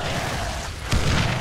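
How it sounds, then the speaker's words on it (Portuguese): A bomb thrown to the ground goes off in Dead Island: Riptide, a single heavy boom about a second in that swells into a loud, broad rumble over constant game noise. "Joguei uma bomba no chão e morri com a explosão"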